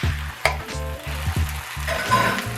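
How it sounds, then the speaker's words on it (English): Eggs added to browned soyrizo sizzle and fry loudly in a close pan, with a steady crackling hiss and some stirring scrapes, no talking. "I'm gonna add my eggs."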